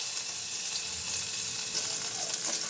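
Finely chopped coriander stalks sizzle in hot oil in a pan during fish cooking, a steady close hiss and crackle that runs unbroken and evenly loud throughout.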